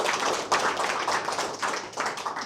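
Audience clapping at a DevOps and AI meetup in Latvia, a dense burst of many hands that swells, dips briefly and rises again over a few seconds, fairly close and steady.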